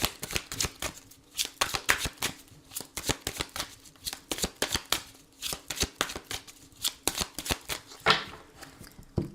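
Tarot cards are shuffled by hand in quick riffling bursts with short pauses between them, crisp and near, with no voice heard.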